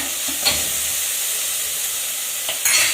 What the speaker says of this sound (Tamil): தக்காளி பழத்தை போடுங்க. கிளாஸ் கலருக்கு வரணும் வெங்காயம்